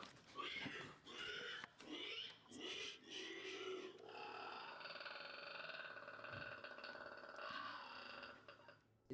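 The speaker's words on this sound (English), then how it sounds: "That's a pig or a boar." A pig or boar playing back through a video: harsh, choppy grunting squeals that merge into a long, strained, continuous squeal, heard fairly faintly with a slightly distorted quality.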